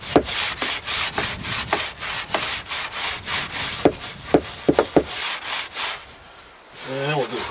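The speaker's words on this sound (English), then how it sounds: "And we'll scrub the teak." A wet brush scrubs a teak boat deck in steady back-and-forth strokes, about two per second, with a rough bristly rasp that is close and fairly loud before it slows near the end.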